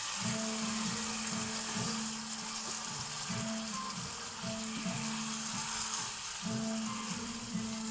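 Food sizzling and frying steadily in a hot pan while Bombay potatoes are prepared, a constant bright hiss with a low hum pulsing beneath, moderately loud and close.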